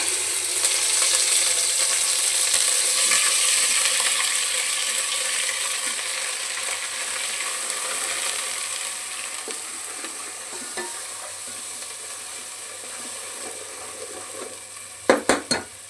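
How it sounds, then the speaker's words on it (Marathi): A homemade masala spice mix hits hot oil with cumin for misal pav, a continuous close sizzle and frying hiss that fades slowly, ending in a few sharp clanks of utensils. "त्यानंतर आम्ही मसाला टाकतोय जो की आम्ही करून घेतलाय"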